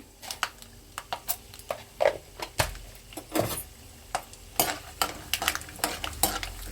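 Peanuts, chana dal and urad dal frying in hot oil in a pan, a soft sizzle under brisk stirring with repeated scraping clicks of a spoon against the pan, close and fairly loud throughout.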